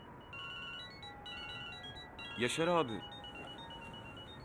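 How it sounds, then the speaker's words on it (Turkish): A phone rings with a faint, repeating melodic tone, and a voice calls out briefly over it. "Telefonun çalıyor."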